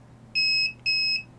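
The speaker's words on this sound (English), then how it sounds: "The buzzer will buzz, and it will inform you on the screen that there is a message" Two sustained electronic buzzer tones from a pocket-sized LoRa messenger signalling an incoming message, each about a third of a second long with a short gap between them, loud and clear over a quiet low hum.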